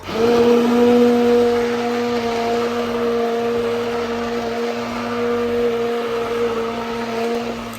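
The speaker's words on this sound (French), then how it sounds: "avec le mixeur plongeant, on va mixer le tout." An immersion blender purees coral lentil soup with a loud, steady motor whir that holds an even pitch for several seconds, close and uninterrupted.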